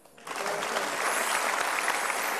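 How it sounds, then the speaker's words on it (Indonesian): Applause erupts from the audience at a stand-up comedy show celebrating a TV station's anniversary, swelling quickly after a quiet start into loud, sustained, dense clapping. "Boleh tepuk tangan buat Metro TV?"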